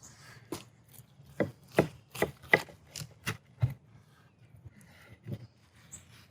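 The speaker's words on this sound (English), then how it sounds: "All right, let's cut into it and see how we did." A knife cuts down through a bacon-wrapped steak and egg breakfast sandwich, a series of about nine crisp crunching strokes in an irregular rhythm, close and clear over a quiet background.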